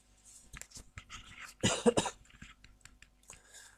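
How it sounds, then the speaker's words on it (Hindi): A single close, harsh cough bursts out in two quick heaves, surrounded by quieter breathy throat sounds. "सॉरी, ये थोड़ी सी खांसी लगी हुई है"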